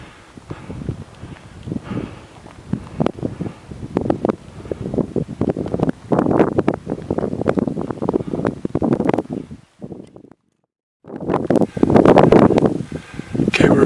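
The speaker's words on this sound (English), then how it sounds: "Wind's blowing about 25 to 30." Strong gusting wind near the summit of Pikes Peak, with snow on the ground, buffeting the microphone in loud surging roars that drop out briefly before returning.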